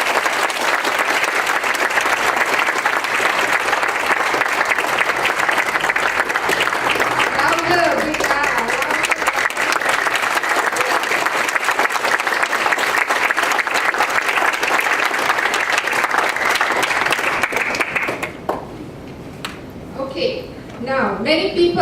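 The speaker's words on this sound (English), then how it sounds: "So let us welcome C4 into the fray with an explosive applause." A forum audience at a public launch event against corruption and cronyism breaks into loud, sustained applause for about eighteen seconds before it fades and a speaker begins talking.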